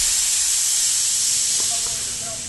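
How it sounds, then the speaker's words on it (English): A homemade 30-gallon air compressor vents pressure in a steady, bright hiss that fades slightly over a couple of seconds. Faint clicks sit underneath and no one speaks. "it releases the pressure"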